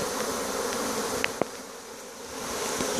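A steady, dense buzzing of a honeybee swarm at a hive fills the air, with a few individual bees droning briefly closer by.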